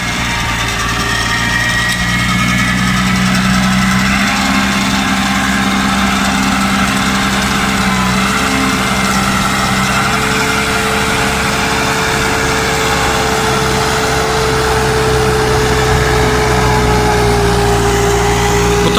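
A tractor-driven hay baler runs steadily while compressing straw, its engine labouring under load with a continuous loud drone and mechanical clatter throughout, no voices.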